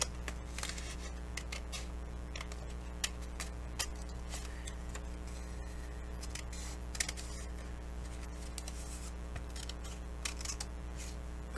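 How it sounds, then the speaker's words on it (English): Scissors snipping paper on either side of a score line while folding a handmade envelope with pockets, a run of small sharp ticking cuts over a steady low hum, close and fairly quiet. "So I'm going to cut on either side of the score line."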